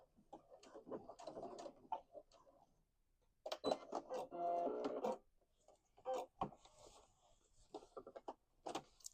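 A sewing machine stitches a few quick passes back and forth on a jeans hem, giving short mechanical whirring bursts between quieter handling noises. The sound is faint and close.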